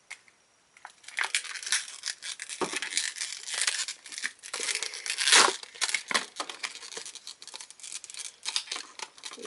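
A thin sheet of paper instruction insert from a yo-yo package is handled and unfolded close by, with crisp crinkling, rustling and soft crackling bursts coming in uneven waves after a brief quiet start.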